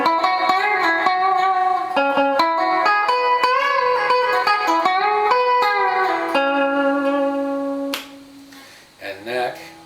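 Electric guitar on the middle pickup position of a gold foil-equipped guitar playing a distorted melodic lead, loud and close, sustained notes with some bends, trailing off into a few softer plucks at the end.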